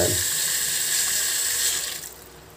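A kitchen tap runs in a steady loud stream, filling a pot of pork trotters for adobo, then tapers off as the flow is cut. Nobody talks.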